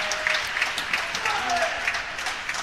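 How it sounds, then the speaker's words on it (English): Crowd applause and cheering in an indoor hall at a European para table tennis championship match, steady clapping throughout with a commentator talking over it. "Cheered on by his crowd as well."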